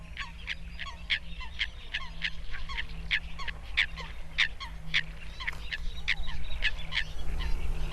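Coots calling from reeds along the Tiber river, a dense run of short, sharp repeated notes at a steady rhythm over a low background hum, moderately close and continuous.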